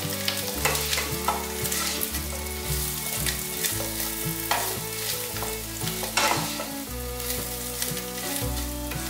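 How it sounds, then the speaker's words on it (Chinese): Flipped tempeh keeps frying in oil in a pan, giving a steady close sizzle with occasional stirring scrapes. Background music plays throughout. "再继续让它煎。"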